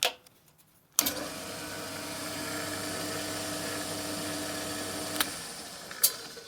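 An electric power saw switches on abruptly and runs with a steady, fairly loud whirring drone for several seconds, with a couple of brief clicks near the end.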